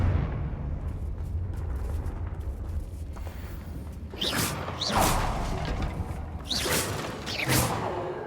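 Confringo blasting-spell explosions in the Hogwarts Legacy video game. Mechanical creaks and rumbling open the scene, then several sharp booming bursts with whooshing tails hit in pairs near the end.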